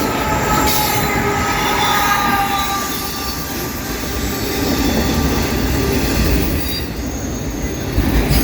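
A CSX autorack freight train with a DPU, eastbound on the Old Main Line, rolls past close by, its wheels squealing and clattering loudly and steadily throughout with no voices.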